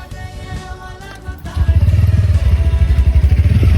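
A motorcycle engine starts up close and loud, then settles into a rapid, pulsing chug that keeps going steadily.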